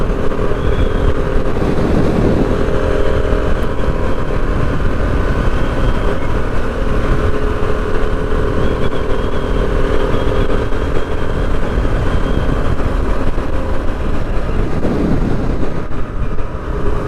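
A 2016 Suzuki DR650 motorcycle engine running, loud and steady for the whole stretch with a constant rumble and whoosh suggesting riding, and no voices over it.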